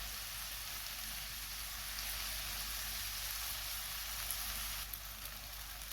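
Tomatoes sizzle steadily in a pan while cooking for a spicy mixed dal, a constant bright frying hiss at moderate level with no talk over it.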